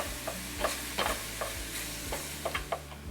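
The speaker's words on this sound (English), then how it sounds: "It's going to take a few minutes to get this browned up" Meat browning in a pan for nachos, with a steady low sizzle and a run of spatula scrapes and taps repeating about every half second, close and fairly quiet.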